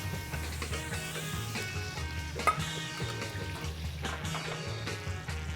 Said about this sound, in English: And then we're going to dump the sofrito in.